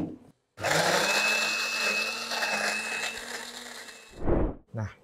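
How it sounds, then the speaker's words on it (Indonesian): An electric blender grinds a salted spice paste with garlic for fried duck, its motor whirring loud and steady for about three and a half seconds, then a pause and a short final burst. "Kemudian kita blender sampai halus."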